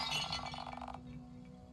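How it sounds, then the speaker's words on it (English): An ornate ceramic vase shatters in a video game with a bright, glassy crash and tinkling shards lasting about a second, then only a faint background hum remains. "The vase shatters into worthless ceramic shards."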